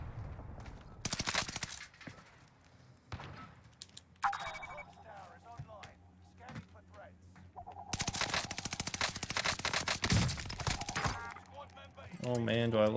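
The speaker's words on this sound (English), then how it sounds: "Oh man, do I love this gun." Bursts of automatic fire from an Automaton assault rifle in Vanguard Warzone on Rebirth Island, loud rapid strings of shots alternating with gaps, under a player's voice talking.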